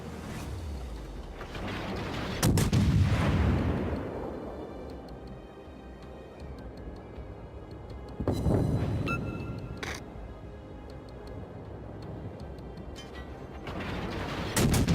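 Heavy naval guns of the cruiser Friant fire in a warship video game, with two big booming salvos several seconds apart and rumbling decay plus lighter shots in between.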